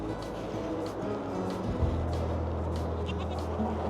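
Goats bleating repeatedly in a farm pen, several drawn-out calls overlapping over a steady low rumble of background noise.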